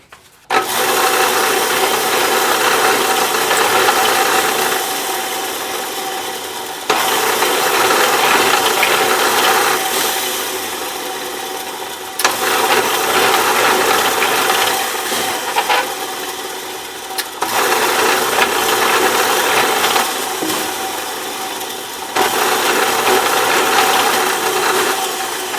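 A drill bores string-through ferrule holes in a wooden guitar body, making loud grinding, rasping runs in about five long bursts separated by brief pauses.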